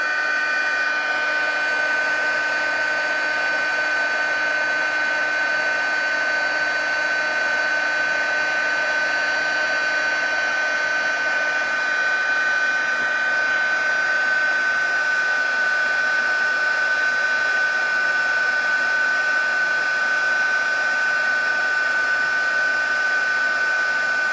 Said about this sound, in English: And I've just got my heat tool.